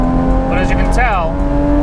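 Modded Porsche 987.2 engine climbing high in the rev range, a tonal rising whine heard under someone talking over it.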